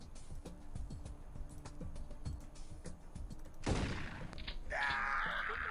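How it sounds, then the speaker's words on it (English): Rapid bursts of gunfire from the Piratez turn-based game, a dense clatter of many shots over about four seconds, then a louder sharp blast followed by a sustained higher hiss or whine. "we've spent our whole turn shooting at a window"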